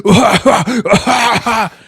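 A voice imitates a coughing fit: a rapid string of five or six harsh, throaty coughs, loud and close.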